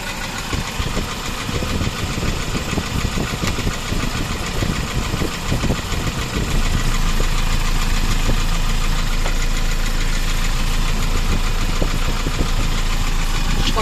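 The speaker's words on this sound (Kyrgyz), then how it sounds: "Мына машинанын моторун жүргөн уккула." A Hyundai Porter 2 truck engine idles steadily at close range, a continuous low rumbling hum with a faint mechanical knock, growing slightly louder midway and holding even, with no talking.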